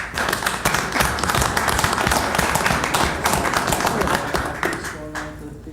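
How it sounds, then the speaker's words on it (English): Round of applause at a mayor and council meeting honoring the Maryland Theater: brisk, crowded hand-clapping fills the room throughout, with a voice briefly surfacing near the end. "Give them a round of applause."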